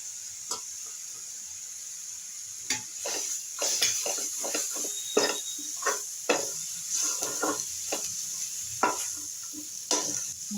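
Garlic, onion and grated coconut stir and sizzle in hot oil in a pan, with a steady soft hiss broken by scraping spoon strokes and light clinks, close and moderately quiet with no talking.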